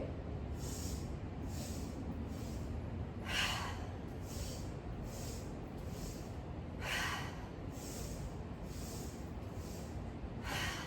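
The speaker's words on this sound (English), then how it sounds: "Big breath in. Big breath out. 5 rounds of breath of joy." Breath of joy yoga breathing, a series of quick, sharp, faint sniffing inhales and forceful exhales in a repeating rhythm, set against a quiet background with no talk.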